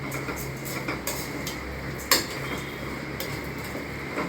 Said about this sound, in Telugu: ఇలా గరిటతో కలపాలి.